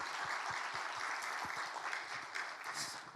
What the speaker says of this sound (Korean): 다 같이 한번 박수로 격려합시다.